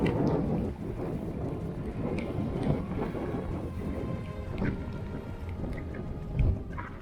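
Strong wind roars steadily outdoors with a storm-like rumble, gusting louder at moments, during a walking hike near Rukla, Lithuania, with no clear voices.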